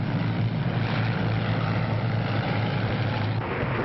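A propeller aircraft engine drones loudly and continuously, a steady rough roar with no variation.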